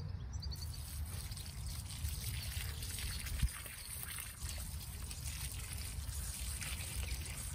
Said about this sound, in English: Just water these in.